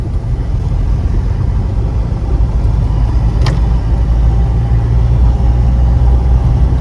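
A Mahindra Bolero BS4 climbs an incline in third gear, its engine a steady, loud, low drone with road rumble throughout and a brief faint click midway.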